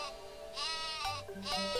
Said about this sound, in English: Turn around, sheep.